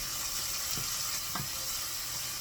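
Onion sautés in a pot with a soft, steady sizzle, quiet and continuous, with a couple of faint stirring knocks.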